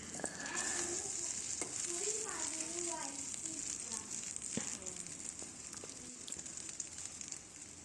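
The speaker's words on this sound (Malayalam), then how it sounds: "നമ്മൾ നേരത്തെ ഉപ്പിട്ട് റെഡിയാക്കി വെച്ചിരുന്ന മുട്ട അതിലേക്ക് ഒഴിച്ച് കൊടുത്തൊന്ന് പൊരിച്ചെടുക്കണം." A salted egg fries in hot oil in a pan, giving a continuous crackling sizzle up close, with intermittent stirring and scraping clatter and a voice talking faintly underneath.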